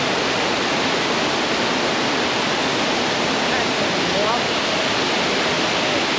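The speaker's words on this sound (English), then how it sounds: "It's one of the tallest falls in Tasmania" Tall waterfall at Pyengana, Tasmania, carrying heavy winter flow, roars as a dense, continuous rush of falling water, loud and steady throughout with no voices.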